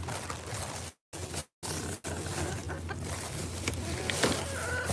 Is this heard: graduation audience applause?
no